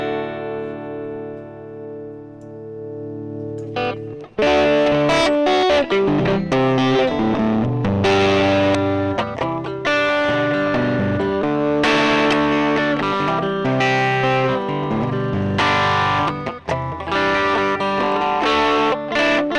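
A sustained guitar note gives way to heavily distorted electric guitar chords and riffs through an amp simulator, loud and saturated, with no voices.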